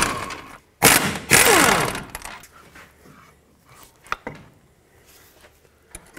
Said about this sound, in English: Take off this 18 millimeter bolt as well as this one up here, and that will release the caliper with the bracket